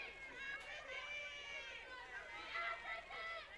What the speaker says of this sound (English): She's got a loud cheer from the crowd